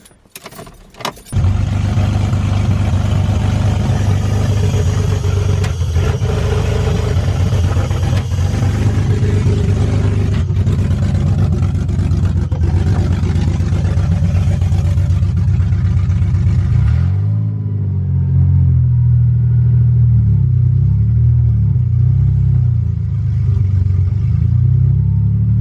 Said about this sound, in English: I just want to see what it sounds like open header